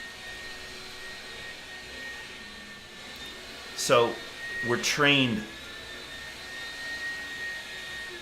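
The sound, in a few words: vacuum cleaner running in background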